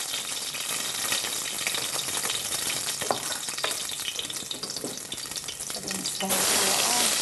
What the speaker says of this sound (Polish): Niech nam się smaży już.